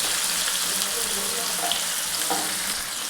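Chopped onion frying in hot oil with dried red chillies, a loud continuous sizzle filling the short stretch with faint stirring.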